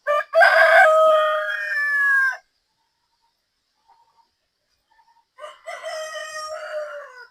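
A rooster crows loudly twice, close by, with a long silent pause between the two calls.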